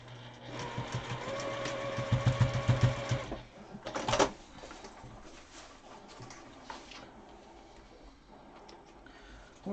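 A sewing machine runs at speed stitching a fabric mask, its rapid rhythmic clatter loud and close for about three seconds, followed by a thump and a quieter stretch of faint handling noises.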